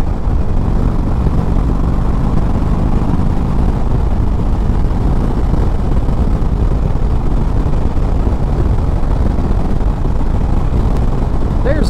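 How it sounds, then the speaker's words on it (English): Wind roar and a low steady engine drone from an Indian Chieftain Dark Horse motorcycle cruising in sixth gear on a highway, continuous and loud without letup. "So let's kick it up into sixth"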